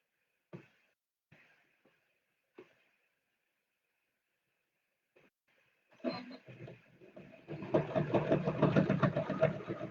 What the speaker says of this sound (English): So I'm going to sew from about here to here.